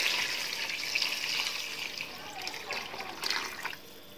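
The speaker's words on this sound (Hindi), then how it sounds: "अब इसमें पानी डाल देना है," Water pours steadily into fried masala for chicken rosh, a continuous splashing hiss that fades out near the end.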